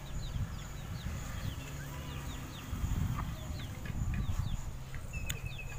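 Chickens cluck softly outdoors while feeding on scattered rice, with brief chirpy calls over a steady low rumble of background noise.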